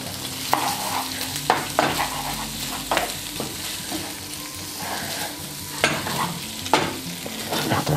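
Cooked octopus with garlic sizzles loudly in hot oil while a utensil stirs it, with periodic scraping clacks over a constant frying hiss and no voices.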